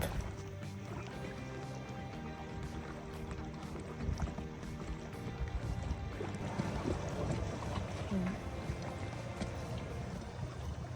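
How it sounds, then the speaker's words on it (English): Canoe paddling through a calm sea cave in Krabi, Thailand, a dense steady wash of water and echoing ambience with soft splashes and a faint murmur of voices. "you literally paddle through the cave"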